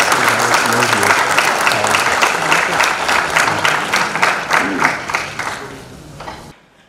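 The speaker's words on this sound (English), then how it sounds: "Ladies and gentlemen, please give a big round of applause." Loud, sustained applause from an audience at a conference opening session fills the scene, dense steady clapping that tapers off and stops abruptly near the end.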